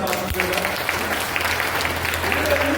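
Crowd applause at a gathering, continuous clapping from many hands throughout, moderately loud, with a low hum and some voices mixed in.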